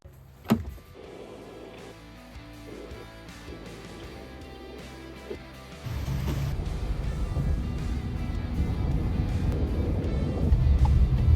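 A car interior with a few clicks and a thump at first, then from about six seconds a steady loud road and engine rumble as the vehicle drives along; no talking.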